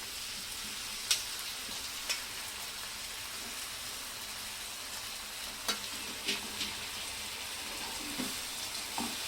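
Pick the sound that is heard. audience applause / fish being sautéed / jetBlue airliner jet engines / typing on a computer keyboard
fish being sautéed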